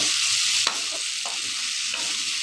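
Flat beans fry in a pan, sizzling with a constant bright hiss broken by a few soft clicks as they are stirred.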